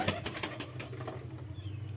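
Pigeons coo softly in a loft where a pigeon mother sits with a four-day-old squab, the low murmuring calls repeating steadily and fairly faint, with no voices.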